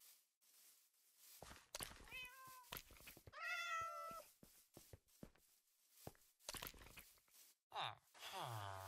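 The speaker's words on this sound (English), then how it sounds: "And I see some cats already." Cats meow in Minecraft, with several distinct in-game mews spread through the clip, some drawn out and tonal. They sound alongside footsteps and other game noises, and a player talks at times.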